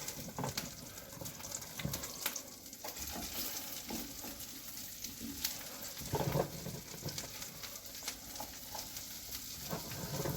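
Thick-cut onion slices sizzle in a hot pan during outdoor cooking, a steady close crackle and hiss that carries on throughout with small stirring clatters and no voices.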